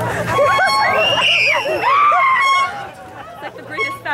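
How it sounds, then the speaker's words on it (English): People scream and shriek loudly, rising and falling, on a haunted Halloween hay ride, with crowd chatter and babble mixed in and the shrill cries fading toward the end. "try not to scream in my ear though"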